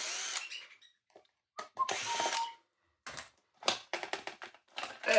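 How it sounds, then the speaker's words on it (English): A power screwdriver undoes screws on a Dyson vacuum during a repair, heard as several short whirring bursts separated by pauses and small handling clicks, close by with no talk. "change your bit back and undo these screws"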